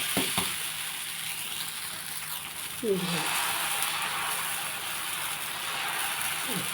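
Foxtail millet dosa batter sizzling steadily on a hot pan, a soft continuous frying hiss with a couple of brief clatters of a utensil, close and fairly quiet.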